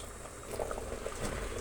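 Jackfruit seed sambar boiling in a pot on a stove, a soft low bubbling and popping, faint and steady, with no talk.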